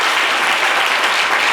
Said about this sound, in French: Applaudissez pour Moussa.